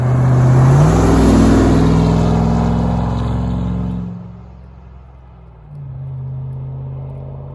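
A Ram TRX 1500 half-ton pickup with a supercharged 6.2 liter 700 horsepower engine drives past with a loud, deep engine rumble that swells and then drops to a quieter drone, rising again near the end.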